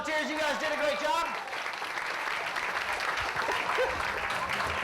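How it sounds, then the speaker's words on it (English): Audience applause for two volunteers at a magic show during an all-night graduation party, steady clapping that fills the clip, with a voice talking over the opening second. "Let's have a big round of applause for both my volunteers"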